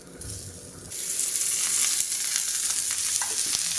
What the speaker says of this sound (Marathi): तेल टाकून आपण हा कांदा भाजून घेणार आहोत.